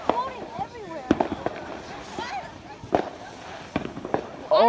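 Fireworks explode nearby in sharp, loud cracks and pops scattered through the clip, with whistling streaks between the bangs and excited voices talking throughout.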